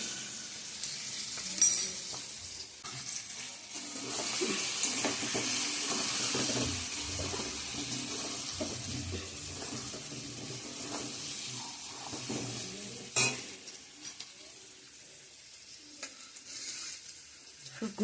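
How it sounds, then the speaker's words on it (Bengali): Spices for olive pickle are stirred as they fry in a pan, giving a steady soft sizzle and hiss with occasional scraping clinks, heard alone without talk. "নাড়িয়ে নিতে হবে, নাহলে মশলাগুলো পুড়িয়ে যাবে।"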